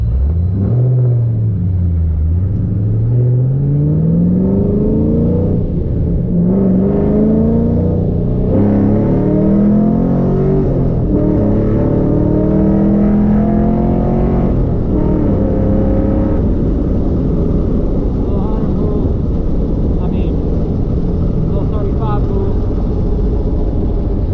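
A 2010 Chevrolet Camaro SS with a TSP stage 4 cam runs loud and close, its lumpy V8 idle rising into repeated revs and falling back. The rumble is steady and continuous throughout.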